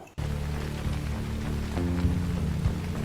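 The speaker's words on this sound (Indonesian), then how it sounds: "Kondisi cuaca hujan lebat." Heavy rain pours down in a steady, dense roar that starts abruptly and holds at full strength throughout, with no voices.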